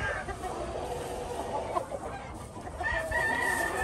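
Chickens, including a hen and a claret gamecock, cluck and call nearby in an outdoor setting, with short bursts of fowl sounds over a steady background and no talking.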